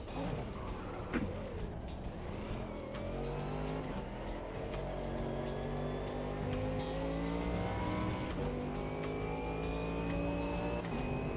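A race car engine in a multiclass sim racing game, droning and revving through rising and falling gear pitches, continuous and fairly loud, with a voice talking over it.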